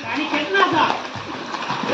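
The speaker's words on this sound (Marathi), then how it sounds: "मदीन पाय मारत राहा" Splashing sea water from kicking feet at a beach, nearby and irregular, mixed with people talking and calling out.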